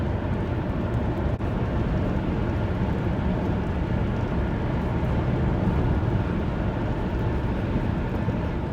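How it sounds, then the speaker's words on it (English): A Jeep driving through the Appalachian mountains, its engine running to recharge the battery, giving a steady, loud, broadband rumble of engine and road noise with no breaks. "right now the engine's running, recharging the battery"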